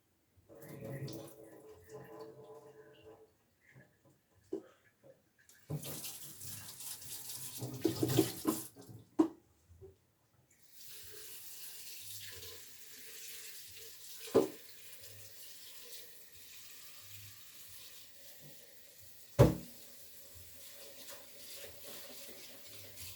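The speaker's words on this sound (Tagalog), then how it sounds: "Ngayon, lagyan natin ng tubig." Tap water runs into a pot holding garlic peels to be boiled, a rushing stream starting and stopping with clatter and handling noises in a kitchen, fairly soft, with a voice speaking at times.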